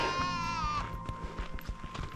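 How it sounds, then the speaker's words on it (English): A horned sheep on a Scottish hill path gives a single wavering bleat up close, followed by quieter footsteps and rustling outdoors. "Some sheep is in the path."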